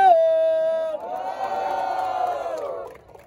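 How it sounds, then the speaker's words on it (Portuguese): Crowd at a Brazilian street rap battle, Batalha da Leste, cheers and whoops for the MC after the host calls for noise, a sustained loud roar that swells and then fades out near the end. "Barulho pra quem gostou das rimas de tubarão!"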